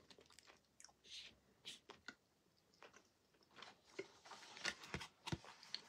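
Close-up chewing of a crunchy raspberry and white chocolate raw snack bar, with irregular crisp crunches and soft mouth sounds that grow denser toward the end and no talking.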